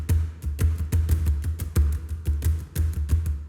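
Barans hand drums played alone in a steady, driving rhythm, with repeated sharp strikes over deep booming tones, close and clear with no other instruments.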